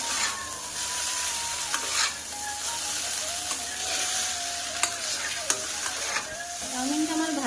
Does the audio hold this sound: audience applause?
no